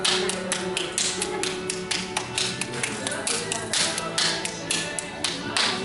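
Wedged clay for a step stone is slapped and balled up by hand, producing a quick, irregular run of close, wet taps and pats.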